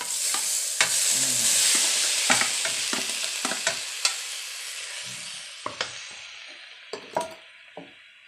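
Curry paste and ingredients for a Thai-Isan beef skin curry stir-fry in a hot pan, a steady sizzle under repeated scraping and clinking spatula strokes, close and busy.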